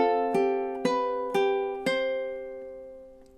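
A ukulele plays measure 21 of a lullaby: four bright plucked notes or chords in even time, each ringing and fading. The last note decays into near quiet, and the sound is close and clear with no speech.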